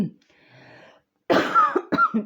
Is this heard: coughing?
yes